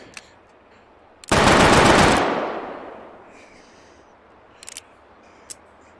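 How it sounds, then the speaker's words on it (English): A revolver is fan-fired in the VR shooting game H3VR, a sudden loud burst of rapid shots fused into one harsh roar that decays over about two seconds, followed by a few faint mechanical clicks. "the alternate is fan firing it"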